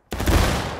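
A musket volley cracks out in the Civil War video game War of Rights, many shots fired almost together into one heavy, rolling boom with a crackling tail, loud and close, no talk over it.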